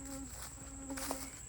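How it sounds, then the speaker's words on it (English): Insects, mosquitoes among them, whine thinly and steadily in a run-down residential yard, a faint continuous buzz close to the microphone with no talking. "Mosquitoes all over the place."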